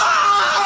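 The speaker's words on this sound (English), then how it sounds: "Deep from within the prison courtyard came a long, protracted, agonized scream." A long, agonized scream from a prison courtyard, sustained and loud, with a harsh, high, piercing tone and no pause.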